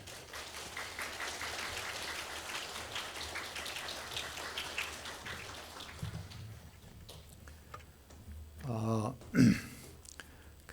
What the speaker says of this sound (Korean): 나오실 때 박수로 좀 환영을 하겠습니다